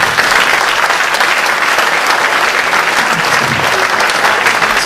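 An audience claps loudly and continuously, a dense wash of applause with no pauses.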